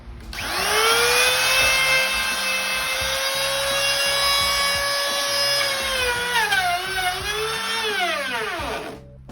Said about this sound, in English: this is how a little handheld router